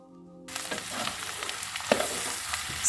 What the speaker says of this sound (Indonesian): kita masukkan kentang yang sudah kita goreng dan kita aduk-aduk kembali sampai semua bumbu tercampur